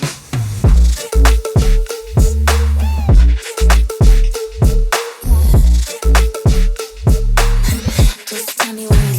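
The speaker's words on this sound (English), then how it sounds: "where we have a chorus effects verb weird type layer on the bass" Booming 808 bass layered with chorus and reverb in a punchy beat, deep pulsing bass notes hitting in a choppy rhythm alongside sharp percussive hits, loud and upfront.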